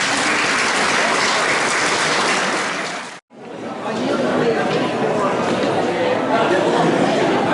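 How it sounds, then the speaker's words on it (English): A crowd at an Australia Day gathering in Warracknabeal claps loudly for Carl from Horsham, a dense sustained round of applause with chatter mixed in, briefly cutting out midway before resuming at full strength. "give him a round of applause, please"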